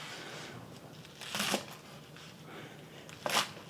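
A knife cuts a bunch of garlicky chives into 2-inch pieces, giving two short, crisp crunching chops about two seconds apart against quiet background noise.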